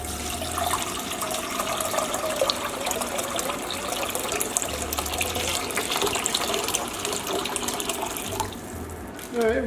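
Water runs steadily from a kitchen tap into a pot in a continuous splashing gush that lasts throughout before tapering off at the end.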